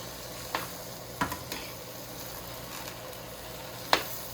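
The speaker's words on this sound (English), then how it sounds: "now I'm just going to stir from the bottom and get some of our cooked cabbage up top" Fried cabbage is stirred in a pan, giving a faint, steady sizzle broken by a few sharp scraping clicks of the utensil against the pan.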